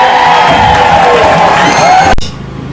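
Large outdoor crowd at a political gathering cheering and shouting loudly in a dense wash of voices, close and sustained, then dropping sharply to quieter background murmur near the end.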